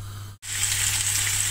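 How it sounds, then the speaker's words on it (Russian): Fish sizzles and crackles in hot oil in a preheated frying pan, a steady loud fry that drops out for an instant and then carries on evenly, with a low constant hum underneath. "сразу отправляем рыбку на разогретую сковороду с маслом."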